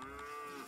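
A single short cow moo from the farming video game Micro Town, clear and alone, with no talk over it.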